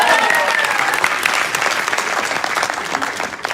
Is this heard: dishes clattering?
no